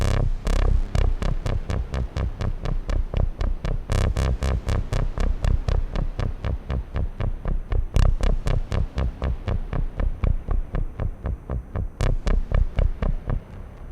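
A Yamaha CS synthesizer plays a saw wave shaped by an LFO into a fast, even throbbing pulse with hard attacks, steady and close with no voices. Louder accents land every few seconds.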